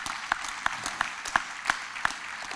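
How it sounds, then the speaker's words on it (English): Audience applause at a university stage event, a steady wash of clapping with a few sharper individual claps standing out, moderately loud and continuous. "She needs a round of applause."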